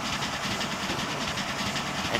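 The BBÖ 214 steam-era locomotive running along a track in Transport Fever, a steady, dense rolling rumble with a broad hiss, continuous and fairly loud, with no voices.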